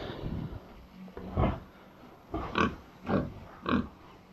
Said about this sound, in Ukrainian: Свинки.